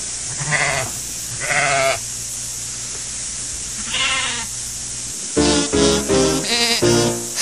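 Sheep bleat near One Tree Hill: three separate bleats at first, then a fast, close cluster of overlapping calls at the end, over a steady low background hum.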